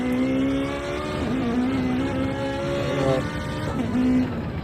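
Ferrari GT race car on board during qualifying at the California 8 Hour, its engine holding a loud steady high drone with a brief shift dip midway, then pulling back up, no talk over it.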